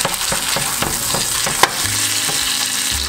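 Prime rib bones sizzle hard as they go into a hot pot with the roast's fat, a steady loud frying hiss broken by a few scraping stirs and clanks, with no talking.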